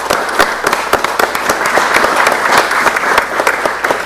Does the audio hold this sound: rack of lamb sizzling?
no